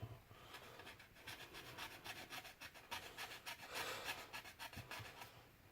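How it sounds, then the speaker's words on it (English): A hand file rasps back and forth over large chunks of putty or resin in steady side-to-side strokes, close but quiet, with no talking. "When you're filing down large chunks of putty or resin, it's okay to go side to side like this"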